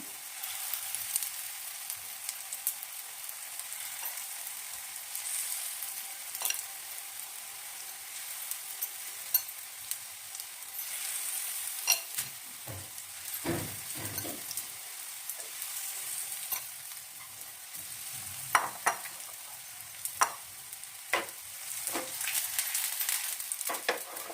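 Sliced kundru frying over a medium flame gives a soft, continuous sizzle throughout, broken by scattered clicks and scrapes of a utensil stirring the pan, fairly quiet and without any talking.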